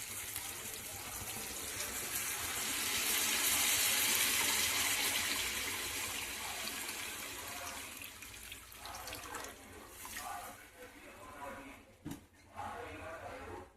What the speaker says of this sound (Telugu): పులుసు అయితే పోసేసుకోండి